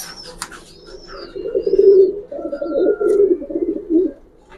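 Old-breed Giribaz pigeons in a loft coo steadily nearby, a run of low rolling throaty calls rising and falling over a few seconds, with a brief higher chirp early on.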